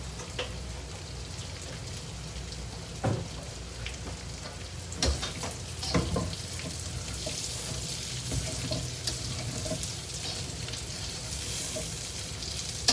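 Beef spleen frying in extra added oil until crisp, a continuous dense sizzle and crackle with occasional sharper pops and stirring knocks, steady and close, with no talking.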